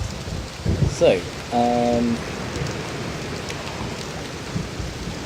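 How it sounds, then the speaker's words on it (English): Rain falls steadily in the realMyst game world, a constant hiss of drops under brief talk and a short tonal chime near the start. "Get out of the rain."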